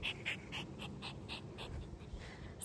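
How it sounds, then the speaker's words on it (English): Rapid, rhythmic panting breaths from a cat close by, quick airy puffs repeating steadily, fairly quiet with no talking. "my cat is panting very loudly for some reason."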